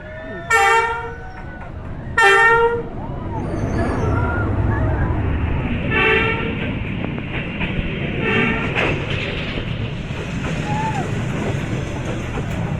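Train passing along railway tracks in Hanoi, Vietnam: two loud horn toots near the start, then a steady rumble of rolling wagons with more faint horn notes, while people talk nearby.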